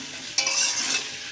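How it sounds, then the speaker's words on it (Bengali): Potatoes frying in a pan with turmeric and salt give a bright, steady sizzle that flares suddenly, holds for about a second, and then returns briefly at the end, with no voices. "এটা প্রায় অনেকক্ষণ ধরে ভাজা হচ্ছে"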